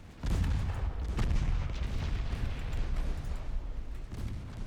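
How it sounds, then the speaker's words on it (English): A torpedo detonates against an enemy ship in the naval strategy game Ultimate Admiral Dreadnoughts, a loud, deep booming blast that starts abruptly and rumbles on for several seconds. "Torpedo detonation on the enemy."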